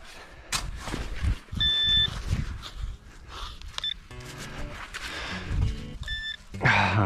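A metal detector sends out several short electronic beeps and tones in bursts while digging through winter ground, mixed with scraping, rustling and handling noises up close.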